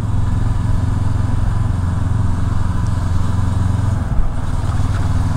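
A 2022 Honda CB500X motorcycle engine runs with a steady, loud low rumble for the whole stretch, an even idle-like drone with no speech over it.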